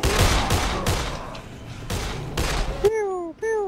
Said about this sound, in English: Pew, pew, pew. I'm out. There's like one more bullet.